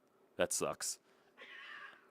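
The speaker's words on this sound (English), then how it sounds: "As the cats are going crazy outside, I can just hear them right now." Cats yowling outside the house, a few short rising meows and wails in quick succession, fairly faint and distant, followed by a low drawn-out cry.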